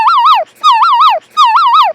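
A voice imitates a wailing alarm siren, three rising-and-falling woo calls in a row, loud and close, with brief gaps between them.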